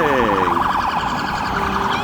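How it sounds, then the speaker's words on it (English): A loud, close emergency vehicle siren on a Chicago street, warbling in a fast yelp pattern over the sound of traffic. "Beautiful siren."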